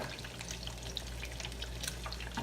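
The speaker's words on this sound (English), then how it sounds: "basically we're frying some eggs" Eggs sizzle and crackle in a hot pan, with scattered pops and spits over a steady low hiss.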